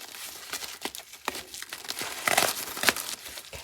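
A mail envelope is cut open with scissors, giving close, quiet papery crinkles and short snipping bursts at an irregular pace, a little louder toward the end.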